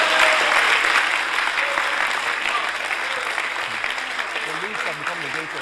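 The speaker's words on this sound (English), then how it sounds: "Hey, clap for God." A congregation at a Sunday church service claps together, a loud continuous wash of hands that slowly eases off, with voices talking over it.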